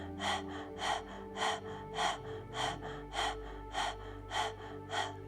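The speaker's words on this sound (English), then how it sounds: "guiding this rhythmic pattern of breathing without forcing" Rhythmic Kundalini yoga breath of fire, even, forceful breaths repeating about twice per second in a steady pulse, close and clear over a low sustained background drone, with no talking.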